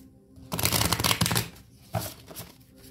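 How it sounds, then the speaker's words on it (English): A deck of tarot cards is shuffled close up, a dense riffling burst lasting about a second followed by a shorter second shuffle. "I'm going to give these a good shuffle."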